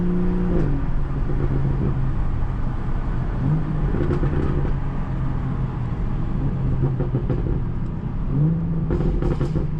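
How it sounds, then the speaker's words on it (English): A car engine revving and downshifting, with rising and falling engine pitch sweeping several times, including a sharp blip near the start and more toward the end, heard from inside over steady road noise. "these downshifts sound great"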